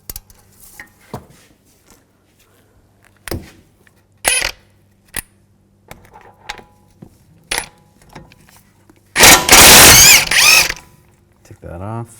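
A socket tool works an 18mm nut off a 2006–2010 Volkswagen Jetta strut assembly. Scattered sharp metallic clicks and ratchet taps sound close by, followed by a loud burst of rapid ratcheting around the ten-second mark.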